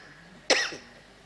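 One sharp, close human cough bursts out in a quiet room and trails off quickly.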